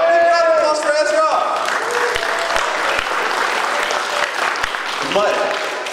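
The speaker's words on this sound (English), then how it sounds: "Big round of applause for Ezra!" A convention show audience applauds for Ezra, steady dense clapping filling the room, loud and close, with a voice speaking over it at the start and again near the end.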